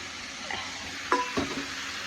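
Rohu fish with flat beans and cauliflower cooks in a pan. A low, steady sizzle runs throughout, with a couple of brief stirring scrapes near the middle.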